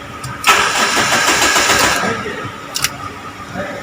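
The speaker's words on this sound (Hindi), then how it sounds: "हम गाड़ी चालू करते हैं" A Mahindra Scorpio S2 engine cranks and fires after an ignition key turn, then settles into a close, steady mid-pitched idle with a brief click near the end.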